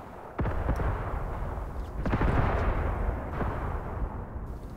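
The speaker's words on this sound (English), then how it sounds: "that's the mortars, okay." Mortar shells impacting in the war game Graviteam Tactics, several sharp booms spaced a second or so apart, each trailing into a rolling rumble over steady background noise, with no one speaking.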